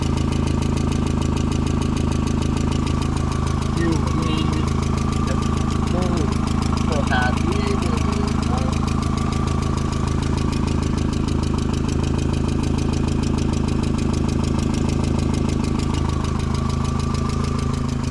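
An idling Volkswagen Jetta engine rumbles steadily up close, a persistent rhythmic ticking knock running through it, with a few faint voices mixed in.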